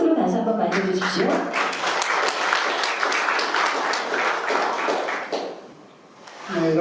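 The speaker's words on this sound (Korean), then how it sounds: "김영률 회장님을 큰 박수로 다시 한번 맞이해주십시오" An audience claps warmly to welcome the head of the Kim Dae-jung Foundation's US central chapter to the podium, a loud, full burst of applause that runs for several seconds and then fades out.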